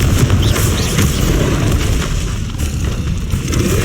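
A Confringo fire spell exploding in the video game Hogwarts Legacy, a loud sustained booming roar heavy in low rumble that holds steady for several seconds.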